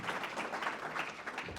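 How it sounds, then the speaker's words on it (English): Steady applause from an audience at a university pitch competition, a dense wash of clapping that runs the whole moment at moderate loudness with no voices on top. "Round of applause again from Ruben."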